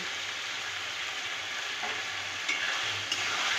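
Chopped tomato and chicken stir-frying in a pan make a steady, soft sizzle with gentle scraping of a spatula, close but fairly quiet, no voices.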